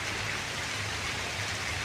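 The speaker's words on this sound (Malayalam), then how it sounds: "കാരണം അത്രയും ഗംഭീരമായ മഴയാണ്." Heavy rain pours in a dense, steady hiss, loud and continuous with no pauses or voices.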